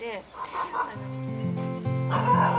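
Dogs barking in short, loud bursts close by, mixed with whimpers and yips, while people talk over them.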